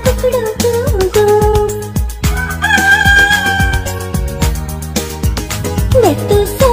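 A rooster crows in a children's nursery rhyme, its loud, bright calls set among musical accompaniment and punchy rhythmic beats.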